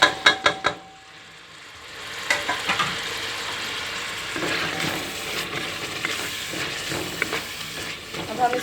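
Mutton with cardamom, cumin and coriander powder being fried in a pot with chana dal; a few sharp clanks of a spoon open, then a loud, close, crackling sizzle with stirring scrapes continues, with a faint voice in the background.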